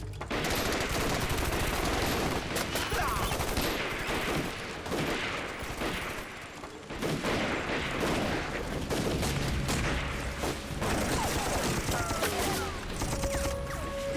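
Heavy, sustained gunfire in an action film about resistance against Japan, with rapid overlapping bursts and shots, loud and chaotic, with shouting voices mixed into the din.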